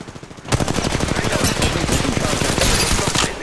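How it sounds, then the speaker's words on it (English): Automatic gunfire in the mobile battle royale game Apex Legends Mobile, a loud rapid stream of shots bursting in after a quiet half second and rattling on steadily to the end. "Shots fired at me."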